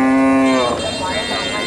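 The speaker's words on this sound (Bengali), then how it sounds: "এটা গাভী অনেক বড় সড়ো একটা গাভী" A large Friesian dairy cow at a cattle market lets out a single loud, close moo that starts as a steady low tone and breaks into a rougher, fading bellow, with faint market noise behind.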